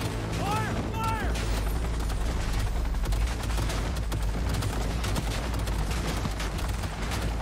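Video game gunfire in Cyberpunk 2077, sustained loud rapid shots and bursts forming a dense fusillade throughout, with a voice speaking briefly underneath.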